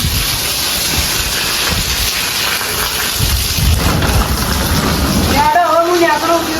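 Steady rain pouring down, a dense hiss with low rumbling that swells midway, then thins as a few tonal voices or calls cut in near the end.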